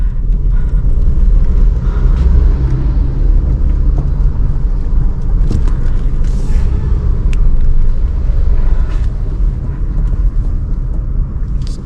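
A car drives slowly along a service lane beside roadworks, heard from inside as a steady low engine and road rumble with faint rattles and small knocks throughout.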